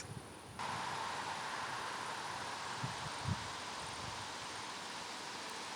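Wind moves through shaded trees in a Swedish garden, making a steady, soft broadband rustle of leaves that holds evenly throughout, with a couple of faint low bumps partway through.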